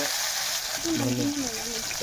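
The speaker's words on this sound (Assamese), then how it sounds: "ধনিয়া আৰু আপোনাৰ পাঁচফোৰণ প্ৰথমতে ফ্ৰাই কৰি লৈছোঁ" Coriander and panch phoron spices fry in hot oil for a fish curry with a steady hiss and crackle, while a voice murmurs briefly partway through.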